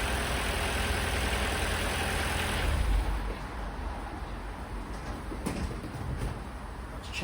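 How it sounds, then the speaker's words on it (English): Vauxhall Corsa B barn-find engine idling steadily right after an oil service, a close constant rumble whose tone drops slightly partway through, with a faint clunk near the end. "Oil pressure's on straight away. Engine sounds nice."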